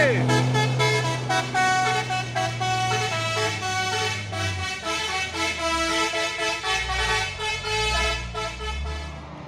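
A truck's telolet horn on the Bukit Kodok climb plays a loud, rhythmic multi-tone melody of repeated toots, with a long low horn note early on and some voices in the background.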